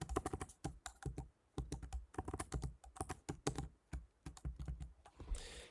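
Keys clatter on a computer keyboard as a website domain name is typed into an online form, a steady run of close, crisp clicks with brief pauses between bursts.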